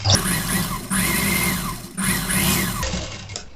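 Electric sewing machine stitching the lining of a pa neck blouse, two steady whirring runs of stitching with a brief pause between, close and fairly loud.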